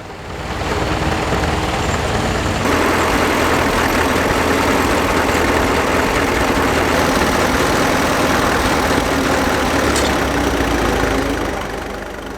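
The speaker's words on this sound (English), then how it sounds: "This one dates from the Second World War era and has had a diesel engine conversion." A diesel-converted Second World War-era Fordson tractor engine idles steadily and loudly nearby at a ploughing match, a continuous chugging rumble that holds for the whole stretch.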